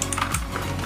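Quick, close clacking keystrokes on a Crown mechanical keyboard, several presses in rapid succession with no talk.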